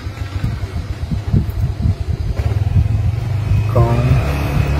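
A Yamaha NMAX scooter engine running during a test after ABS module repair and brake fluid bleeding, with uneven low putters that rise into a revving whine near the end, heard up close.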